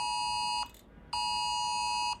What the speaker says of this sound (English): I just got an alert on my phone.